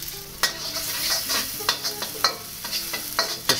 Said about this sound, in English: We're gonna first toss in the garlic and shallot.